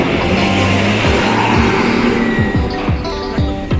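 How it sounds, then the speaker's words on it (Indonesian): A Rosalia Indah executive class bus drives past near a harbour, its engine loud and steady throughout, with a low rumble and several descending tone sweeps toward the end. "Rosalia Indah eksekutif kelas."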